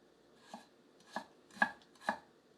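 A Daovua Pipeline nakiri knife chops on a board in four separate, evenly spaced strokes, each a crisp blade-on-wood knock, fairly close with no talk.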